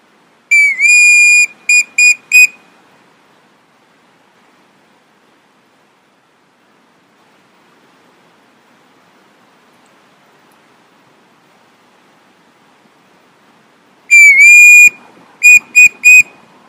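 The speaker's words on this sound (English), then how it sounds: "I blew the whistle" A whistle blown during a pipe ceremony, several sharp, shrill blasts in a quick burst, then a long quiet stretch, then another cluster of loud piercing toots with short gaps between them.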